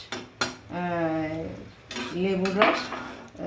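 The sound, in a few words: putting the lid on a cooking pot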